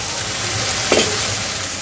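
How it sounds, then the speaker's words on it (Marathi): Masala cooks down in a pan for Vidarbha-style shengole, a close, continuous sizzle and hiss with a single louder scrape of the spoon midway, no voices. "याला छान 2-3 मिनिटं परतून घ्यायचं आहे, याच्यातला कच्चेपणा जातपर्यंत।"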